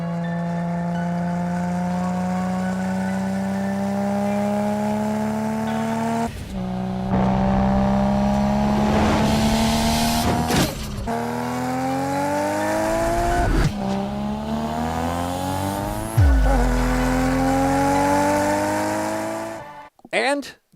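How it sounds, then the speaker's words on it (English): Nissan R32 Skyline GTR with a T78 turbo, Trust manifold and Trust front pipe, revving hard through repeated rising pulls with gear shifts, a loud close engine note with turbo whoosh between changes. "here is also an R32 GTR powered by a T78 as well"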